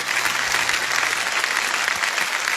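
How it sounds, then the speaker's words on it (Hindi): A studio audience on a Hindi quiz show applauds, with steady, dense clapping that continues at an even level throughout, with no speech over it. "जरा जोरदार तालियां बज जाए"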